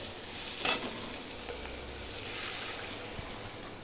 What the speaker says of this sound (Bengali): টমেটোটা দিয়ে কষানো হয়ে গেছে ভালো করে।